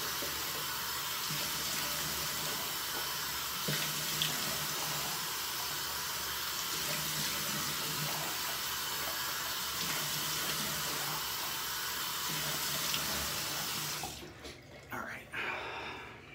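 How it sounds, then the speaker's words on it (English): Hot water runs steadily from a sink tap, a loud, continuous hissing rush that lasts most of the time before stopping, followed by a few soft splashes. "I'm gonna go ahead and run some hot water, splash some hot water on my face,"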